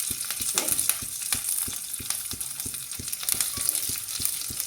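Dried red chillies and curry leaves crackle and sizzle in hot oil for gongura pulihora, a dense, steady frying hiss punctuated by rapid sharp pops and spatters, close and continuous.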